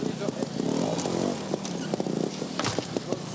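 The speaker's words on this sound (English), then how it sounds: "Now the high revving 280cc gas of Steve Colley." A high-revving 280cc Gas Gas trials motorcycle at an indoor trial in Barcelona blips its engine in short, sharp bursts, heard beneath a commentator's continuous voice over crowd ambience.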